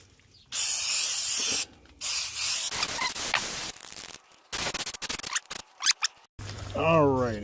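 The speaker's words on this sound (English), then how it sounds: "I just sprayed that good, and even some bolts that some nails that I saw" Sealant sprayed from an aerosol can over roof nails and bolts near solar panels, coming as several loud hissing bursts of varying length with short pauses and clicky can handling between them, plus a brief voice at the end.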